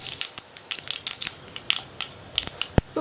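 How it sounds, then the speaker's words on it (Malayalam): A teaspoon of mustard seeds spattering in hot coconut oil in a pan, with sharp, irregular pops and crackles in quick succession, close and crisp, and no talking. "അപ്പോൾ നമ്മുടെ കടുക് പൊട്ടിക്കഴിഞ്ഞിട്ടുണ്ട്."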